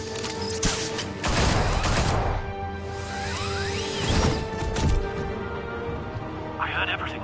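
Henchmen firing guns at Batman in a video game, with repeated cracking volleys of gunfire and whooshes mixed with shouting voices and in-game sound effects.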